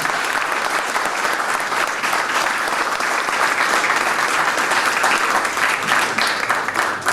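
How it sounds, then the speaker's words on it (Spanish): Loud, sustained applause from a crowd at a memorial event held in a church, steady and dense for the full stretch without a break. "Vamos a darle un aplauso muy fuerte a todos ellos"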